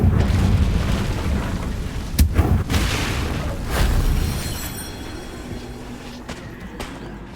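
A Confringo blasting spell in a video game bursts with a deep booming explosion, then rumbles on and decays over several seconds, with sharp cracks at the start of the blast and a fading roar at the end.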